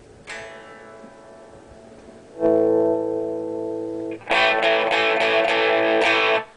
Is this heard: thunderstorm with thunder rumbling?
no